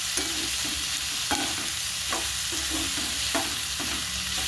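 Steady sizzle of food frying in a pan for egg chops, with periodic scraping stirs at a slow rhythm, close and moderately loud, no talking.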